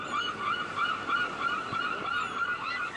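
Seagulls crying over the sea, a continuous chorus of high, wavering calls with a soft surf-like wash beneath, steady and moderately loud without any voices.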